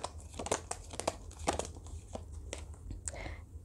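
Tarot cards being drawn from a deck, a quiet series of crisp crinkling and flicking snaps in close succession.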